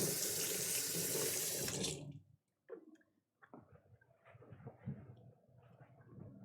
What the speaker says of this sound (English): Give my hands a quick rinse here.